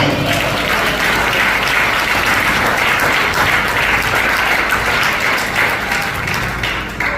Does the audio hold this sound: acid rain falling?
no